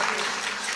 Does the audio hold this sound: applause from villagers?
yes